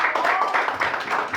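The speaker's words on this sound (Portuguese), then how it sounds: "Aplauda o Senhor Jesus nessa noite." Church congregation clapping during a family worship service, a dense, continuous patter of many hands close by for a brief moment.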